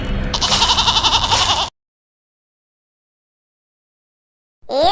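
Goats bleating in a cartoon: a loud, quavering, pulsing bleat lasts over a second, then sudden silence, and a new sound begins abruptly at the very end.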